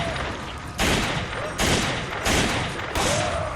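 Gunfire in the video game Resident Evil 5 comes as four sharp, loud bursts in an uneven rhythm over a constant game background, with possible faint talking underneath.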